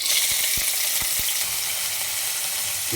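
Cumin and onions fry in hot oil, a steady loud sizzling hiss with a few sharp spoon taps against the pan near the start.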